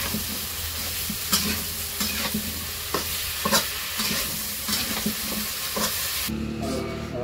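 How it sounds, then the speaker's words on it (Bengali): Stems, potato and eggplant stirring and frying in a spiced pan in a village kitchen, a steady loud sizzle broken by regular scraping stirs, with the hiss dropping away at the end. "তো মশলা কষানো হয়ে গেছে, সবজিগুলো দিয়ে দিল।"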